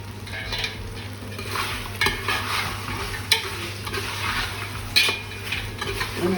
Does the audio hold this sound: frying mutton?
yes